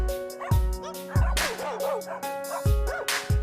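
Several dogs at an animal shelter in Mauritius bark and yip in overlapping bursts, with whimpering between loud close barks and a steady tonal hum underneath.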